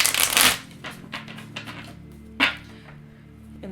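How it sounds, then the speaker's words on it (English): A thick-card-stock tarot deck is shuffled by hand: a loud riffling burst at the start, then several softer card taps and a second short riffle, close up and quiet between. "This deck is always like so difficult to shuffle because the card stock is just really thick."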